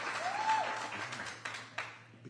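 Brief applause rises from an audience at a Jacksonville news conference held by Governor DeSantis and Ladapo, a short burst of clapping heard at moderate distance.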